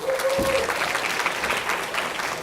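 Audience applause at a conference session fills the space as a steady, dense wash of clapping, continuing evenly throughout without a clear break.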